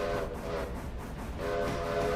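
A steam-style locomotive whistle in the train simulation game Railroader sounds loud and close, two sustained harmonic blasts with a brief dip between them over a constant rolling rumble.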